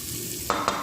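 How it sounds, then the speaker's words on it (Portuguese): Browned beef shoulder being stirred in a pot, a soft sizzle that swells into three quick scraping stirs near the end. "Vou dar aquela mexida"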